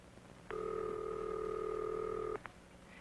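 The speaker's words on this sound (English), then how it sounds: "listen for the ringing signal" A single steady ringing tone of a 1950s dial telephone line sounds for about two seconds over a quiet line, then cuts off with a brief click.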